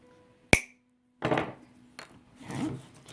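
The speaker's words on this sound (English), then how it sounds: "Cut it again, and then I'm going to cut that line there." Hand-cutting small wood pieces for a DIY miniature barn door: a sharp tap, then three short bursts of scraping, sawing strokes at close range, with no talking.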